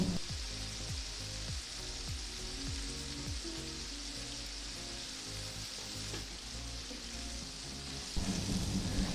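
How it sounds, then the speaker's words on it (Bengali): Marinated chicken fries with onion and tomato in a pan, a dense steady sizzle with rhythmic stirring clicks, growing louder near the end, no voices. "আমি ম্যারিনেটেড চিকেনটা দিয়ে দেব চিকেন পেঁয়াজ আর টমেটোর সঙ্গে কষিয়ে নেব"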